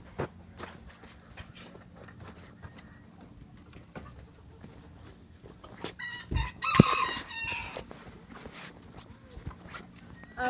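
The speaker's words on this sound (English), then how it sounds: "We got all these chickens in here" Chickens in a farm pen give scattered clucks and a brief crow-like call midway, faint and fairly close, with footsteps and someone talking throughout.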